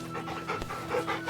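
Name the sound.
dog panting in the video game Final Fantasy XVI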